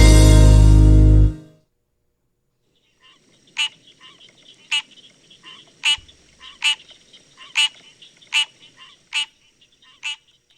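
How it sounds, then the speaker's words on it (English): A common tree frog calls in a played recording, about eight sharp, evenly spaced croaking chirps ringing out alone against near silence after a brief loud burst at the start. "That's a common tree frog."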